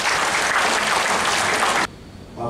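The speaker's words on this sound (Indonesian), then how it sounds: "Tepuk tangan yang meriah" Loud, dense applause from a seminar audience at a cooperative event fills the room for nearly two seconds, then cuts off abruptly, leaving a quieter hum before a brief swell of noise returns.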